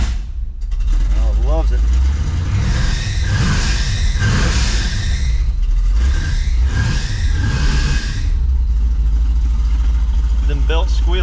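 A Mercruiser boat engine turns over and catches, then runs steadily and loudly close by with a deep rumble, under excited voices talking.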